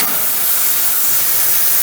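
A VEVOR 8-gallon ultrasonic cleaner runs while heating, giving off a steady, loud, bright hiss like sizzling water that holds constant without any talk.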